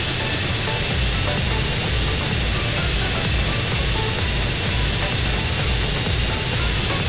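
Jet aircraft engine in GTA San Andreas: a loud, continuous roaring wash with a steady high whine, unbroken for the whole stretch with no voices.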